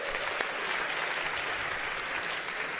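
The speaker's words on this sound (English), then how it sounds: "Let's give him a round of applause." A conference audience at App.js Conf 2026 gives a volunteer a round of applause, a steady, full wash of clapping from a sizable crowd.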